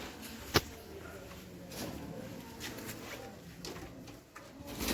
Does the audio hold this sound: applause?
no